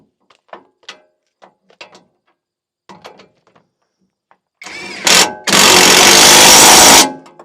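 An angle grinder cutting metal: a few sparse clicks and knocks, then a loud harsh burst of grinding, a brief break, and a longer sustained screeching cut, close up.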